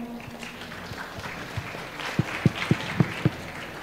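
Audience of middle-school students at a Quran study gathering breaks into brief scattered clapping, a few sharp claps rising near the end over a low room murmur.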